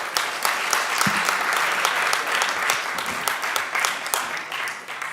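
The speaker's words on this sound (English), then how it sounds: "Let's have a huge round of applause for Paul." An audience at a jewelry industry trade symposium applauds a panelist, with crisp, dense clapping that runs steadily and tapers slightly toward the end.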